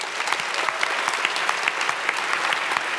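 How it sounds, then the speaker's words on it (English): Sustained, evenly dense clapping from a seated audience at a literary debate in a hall, close and lively, with many hands blending into a continuous patter. "And a round of applause for Intelligence Squared"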